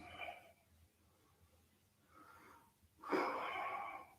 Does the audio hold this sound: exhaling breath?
yes